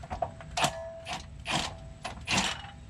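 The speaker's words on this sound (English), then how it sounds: "let's drop the jack down a bit" Hydraulic jack under a Chevy Tahoe being lowered in a driveway, giving a run of four close ratcheting, clicking mechanical bursts at a steady rhythm over a low background hum.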